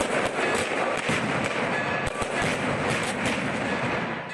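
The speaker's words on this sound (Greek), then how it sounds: "Δευτερόλεπτα μετά τις 9 το βράδυ, τα βεγγαλικά έκαναν τη νύχτα μέρα." Fireworks and cannon blasts during an Easter night celebration in Athens, a dense continuous crackle of bursts with sharp louder bangs, loud and sustained.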